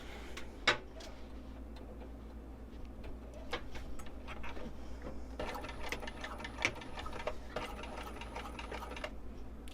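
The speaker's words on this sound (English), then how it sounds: "stitch a little bit closer and see if I can do it without stitching over the cord" Close, steady whirring of a sewing machine stitching a wristlet right alongside a cord, with fine rapid needle ticks and a few short handling clicks over a low hum.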